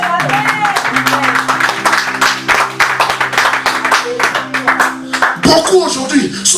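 A church congregation cheers and claps for Jesus in a loud, dense burst of applause with shouts, swelling and then tapering off as voices rise near the end.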